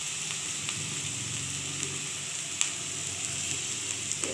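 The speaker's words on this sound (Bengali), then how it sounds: "তো দেখো পেঁয়াজটা ভাজার জন্য তাড়াতাড়ি আমি একটু পরিমাণ নুন দিয়ে দিচ্ছি।" Chopped onions frying in hot oil after a pinch of salt goes in, a steady close sizzle with occasional small pops and stirring clicks, no talking.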